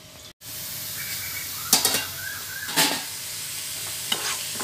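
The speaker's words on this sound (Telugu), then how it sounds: "ఉల్లిపాయలు వేగిపోయి కదా" Onions frying in a pan with curry leaves, a steady sizzling hiss with a few brief stirring scrapes, fairly quiet and close, with no talking.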